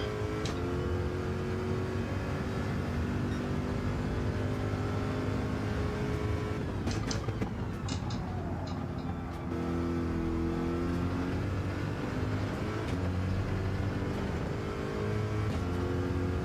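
A race car engine in the Gran Turismo World Series manufacturer's round video game drones continuously and loudly, its revs rising and falling through corners and gear changes without pause.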